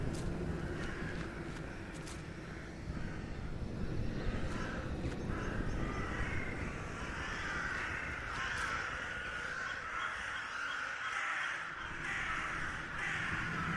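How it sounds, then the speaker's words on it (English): Crows caw in the video game The Last Door, several harsh calls repeating over a continuous low ambient drone, with a few soft hoof-like knocks in the background. "Birds."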